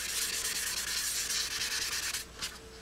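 Steady, even sanding rubs across a cafe racer motorcycle fuel tank being prepared for paint, close and continuous for several seconds before it briefly pauses and resumes.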